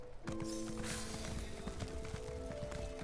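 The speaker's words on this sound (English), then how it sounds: "Here's my pretty horse." Quiet, steady clip-clop of horse hooves trotting along in the video game Elder Scrolls Online, repeating rhythmically over a faint background hum, with no talking.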